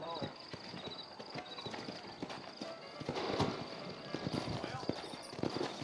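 Horse hooves clip-clopping at a walking pace in Red Dead Redemption, close and distinct, with a horse whinnying and snorting partway through.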